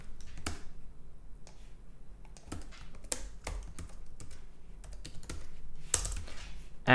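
Rapid JavaScript typing on a computer keyboard, with irregular bursts of clacking keystrokes and sharper key taps close to the microphone and no voices.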